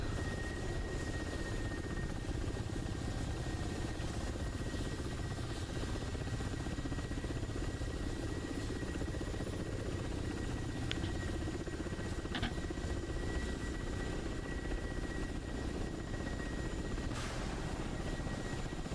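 Continuous rotor and turbine drone of a Cobra attack helicopter flying in a combat video game, steady and even throughout, with a few faint clicks and no voices.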